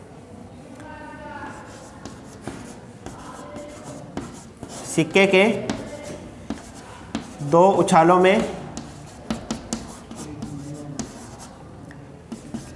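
Chalk or marker scratches across a board in a classroom during a probability lesson. The writing comes in short bursts under a teacher's speech, with two louder stretches of strokes.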